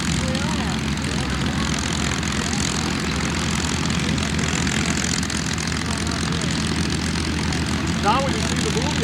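A propeller airplane at the 1990 Stardust Air Show at Cherry Capital Airport in Traverse City, Michigan, drones steadily and loudly throughout, with voices talking nearby over the engine.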